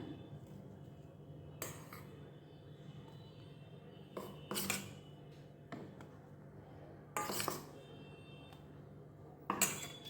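Mango pancake batter stirred in a bowl, with sharp utensil clinks against the bowl at irregular intervals, each a short bright tap, over a quiet low background hum.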